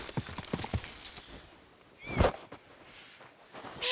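Horse hooves clip-clop in Kingdom Come: Deliverance 2, a run of quick uneven hoofbeats up close, then a brief whinny-like squeal and a louder thud, among other game sounds.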